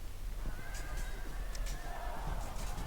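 Cavalry horses in Field of Glory II whinny faintly and repeatedly over a low, steady battle rumble, with a few soft clip-clop hoofbeats mixed in.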